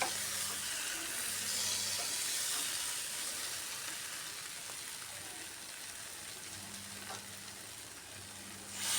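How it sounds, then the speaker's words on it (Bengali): Bean and potato vegetables sautéing with lentil dumplings in a pan, giving a steady soft sizzle throughout with faint stirring scrapes, fairly quiet and without talk. "বড়িগুলো দিয়েও খুব ভালো করে কষিয়ে নিচ্ছি সবজিটাকে"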